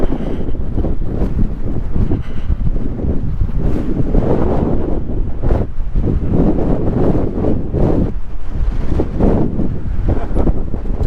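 Strong gusting wind buffets the microphone on a hilltop mountain bike ride near Big Laguna Lake, a loud continuous roar with surging bursts and no voices.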